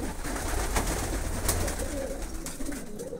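Pigeons coo up close in a loft, soft repeated throaty calls over steady rustling and background noise.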